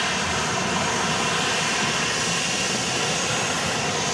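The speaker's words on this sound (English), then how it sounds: "We've got a parade of Southwest jets headed out to the takeoff position on 3-1 left." Southwest Boeing 737 jets taxi out toward the runway 31L takeoff position at Dallas Love Field at night. The result is a continuous, broad jet-engine roar at steady loudness, with no voices.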